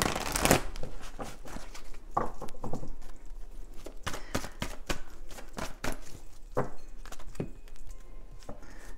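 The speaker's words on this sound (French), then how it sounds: "Je brasse bien le jeu." A deck of tarot cards is shuffled by hand in a quiet room, giving a run of crisp riffling bursts and soft papery slaps in uneven clusters, close to the mic, with no voice over it.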